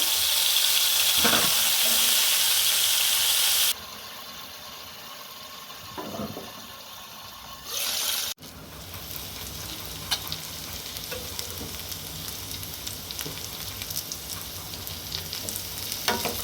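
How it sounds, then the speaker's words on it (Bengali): Potatoes frying in oil already used for pointed gourd, a steady hiss and sizzle with stirring, briefly interrupted by running tap water, then crackling on continuously without talk. "যে তেলে আমি পটলগুলো ফ্রাই করলাম সেই তেলের মধ্যেই আমি আলুগুলোকে ফ্রাই করে নেব"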